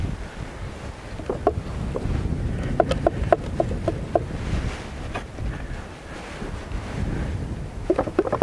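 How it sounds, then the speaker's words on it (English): Gusty wind blows outdoors by tranquil water during an Australian plein air painting session, a steady broadband rush with buffeting on the microphone and a few faint clicks and taps, no talking. "That wind's really come in for a minute."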